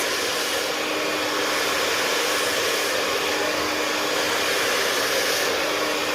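A handheld hair dryer blows hot air steadily on hair during brush styling, a loud, constant whooshing roar that holds with little change and no speech.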